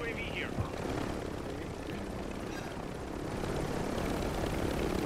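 A helicopter in the video game Call of Duty Warzone gives a steady, loud rotor and engine roar that fills the whole stretch. Game chatter and faint voices sit over it.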